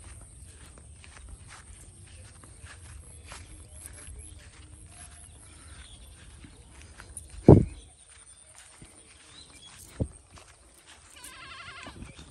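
Out in an open field beside a river, a goat gives a single loud, close bleat, with a fainter call a few seconds later, over quiet rustling and footsteps.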